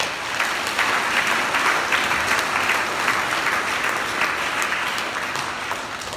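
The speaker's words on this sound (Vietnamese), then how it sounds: "chúng ta cùng chào đón nhau và chúc mừng bổn mạng nhau với một tràng pháo tay." A Vietnamese Catholic Mass congregation at Saint Cecilia gives a round of applause, a sustained, full wash of many hands clapping that tapers slightly toward the end.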